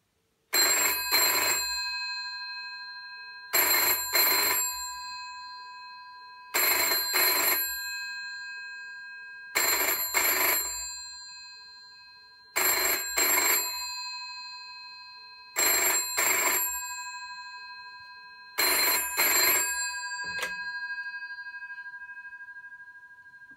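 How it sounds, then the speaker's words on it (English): An ivory 1980 GPO 741 wall-mounted telephone bell rings loudly in seven double bursts, each ring followed by a short pause and a lingering reverberant decay. "So I'll give it a ring for you, so you can hear the lovely chime of the bells."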